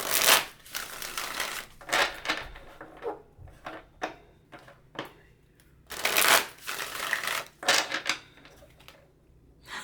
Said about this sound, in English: as I'm shuffling, the Tower pops out